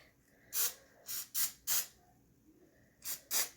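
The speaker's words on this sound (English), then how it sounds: "I'm going to take my cooking spray and give it a nice little light spray inside" Cooking spray misted in short bursts inside a plastic Easter egg mould, six quick hissing sprays in two groups, close and fairly loud with no talking.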